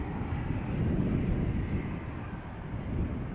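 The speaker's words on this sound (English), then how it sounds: "E2 Embraer 195 to Oslo, making its way over to the threshold" A KLM Embraer E195-E2 jet taxiing toward the runway threshold at Amsterdam Schiphol airport, heard as a steady, broad engine rumble at moderate distance with wind noise mixed in, no voices.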